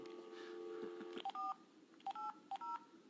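Desk phone keypad dialing, a quiet room hum then a run of short clean touch-tone beeps in small clusters, close and crisp with no talk.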